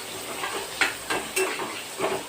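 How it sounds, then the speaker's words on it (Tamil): Onions, a large batch of more than a hundred, fried in a pan until golden, giving a steady broadband sizzle with a few sharper scraping stirs, close and moderately loud, with no talking. "நல்லா பொன்னிறமாக வறுத்துக்கலாம்"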